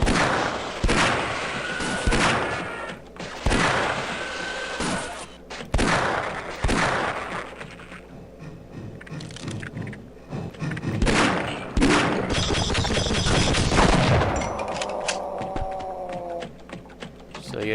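Bursts of MP5 gunfire ring out in Half-Life, several sharp punchy shots spaced apart over a steady game hum, with a tonal ringing whine near the end.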